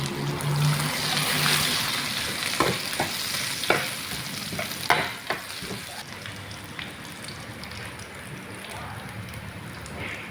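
Whole cumin and chopped garlic frying in hot oil, a constant sizzle broken by sharp scraping and clinking strokes of a spoon stirring the pan, close up with no talking.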